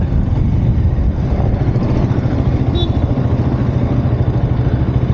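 A 2025 KTM RC 200 motorcycle is ridden with its engine droning loud and close, a steady, buzzing throb that holds roughly even throughout.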